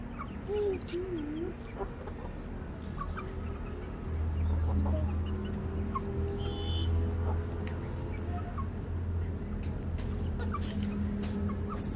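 A broody hen set on eggs clucks in repeated low, throaty notes nearby, with other hen sounds and a steady rural background hum around her.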